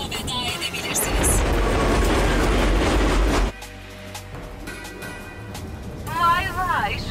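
A metro train in an animated cartoon rushes along with a loud, steady roar and rattle that drops off abruptly midway, followed by quieter rumbling, mechanical whines and chattering voices.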